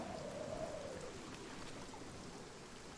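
Steady rain falls in the video game Project Zomboid, a soft constant hiss that continues evenly without a break and with no speech over it.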